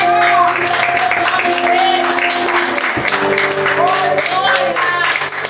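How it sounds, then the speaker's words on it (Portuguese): A church congregation applauds during an evening worship service, a loud, continuous patter of clapping that goes on throughout, with voices and music tones beneath it. "Aplauda o Senhor Jesus nessa noite."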